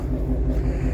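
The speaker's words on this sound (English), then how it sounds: "Oh, listen to that exhaust." A 2018 Ford Mustang Shelby GT350 exhaust in sport mode, a deep continuous rumble at idle, close and fairly loud, with no talking over it.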